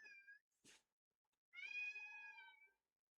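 Pet cat Wilson meowing: a short high meow, a brief rustle, then a longer, clear, drawn-out meow close by in a quiet room, no talking.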